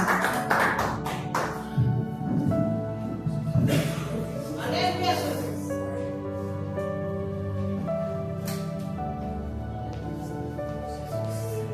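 A church congregation at a Wednesday service claps in a burst of sharp, overlapping hand claps near the start, under a voice speaking, before sustained music and talk take over.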